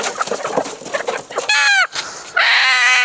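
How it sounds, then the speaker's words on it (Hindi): A white hen clucks and squawks close by, with a run of short clucks leading into two loud, drawn-out tonal cries in a village yard. "तो ये मुर्गी देखिए कैसे आवाज़ें निकाल रही है।"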